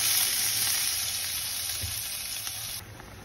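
Garlic and onion sautéing in hot oil give a bright, steady sizzle close by, fading slightly before a small drop near the end, with no talking.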